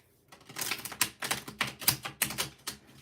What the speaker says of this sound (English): That was a nice shuffle.